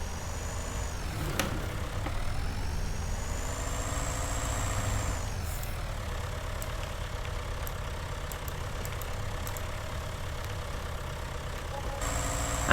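A tractor engine idles at a steady low rumble, close and unbroken, with no talk over it.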